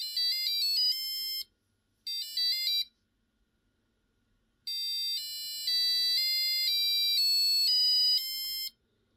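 Arduino passive buzzer sounding a tone setting of 500, a shrill electronic beep in two short bursts, then a longer warbling run of changing pitches, fairly quiet and alone.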